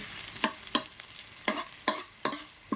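Garlic is stirred into a hot pan for sinampalokang manok, with six or seven distinct scraping stirs spaced roughly evenly over a faint sizzle, close and fairly clear.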